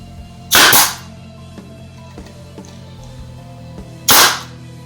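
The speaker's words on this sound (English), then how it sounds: "just use the nail gun." A nail gun fires two sharp, loud pneumatic shots into wood, spaced about three and a half seconds apart, close by, with quiet handling noises in between.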